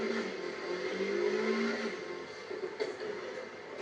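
A Honda Civic engine revs in the racing game Need for Speed Heat, a sustained, moderately loud tonal engine whine that holds steady and then wavers slightly as it accelerates, with no voices over it.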